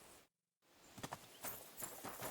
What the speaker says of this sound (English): Hey, Toman, get off that horse.